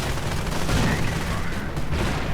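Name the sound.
sniper and gunfire in a WWII strategy video game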